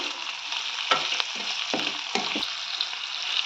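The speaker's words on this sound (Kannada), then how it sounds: "ಹೀಗೆ ಫ್ರೈ ಆಗ್ತಾಯಿದೆ." Rice mixture for cabbage rice frying in a pan, a steady broad sizzle with several soft stirring scrapes at irregular intervals, close and alone with no voices.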